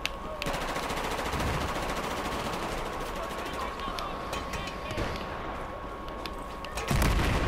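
Rapid automatic gunfire in Battlefield 4 team deathmatch, a loud sustained burst of closely spaced shots that rattles almost continuously, then breaks off into a heavier blast near the end.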